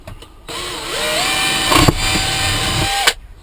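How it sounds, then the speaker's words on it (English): A power drill bores a hole for a fan mount on a motorcycle, its motor whining steadily for about two and a half seconds, loud and close, then stopping abruptly. "Drill a hole."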